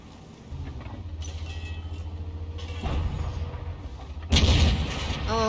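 A heavy tank's main gun fires in a video game, one sharp booming blast cutting through a continuous low engine rumble near the end.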